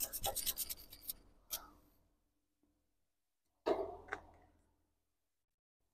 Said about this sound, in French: je vire la rouille pour pouvoir bien souder